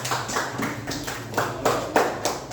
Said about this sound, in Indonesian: Yang tepuk tangan buat teman kalian ya